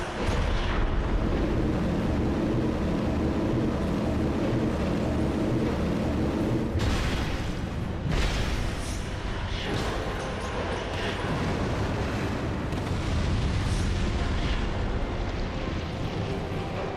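An enemy blows up in the video game Dark Souls 2 amid dense, continuous rumbling blasts and crashes that run loud and steady throughout, with heavier bursts near the middle and low game noise underneath.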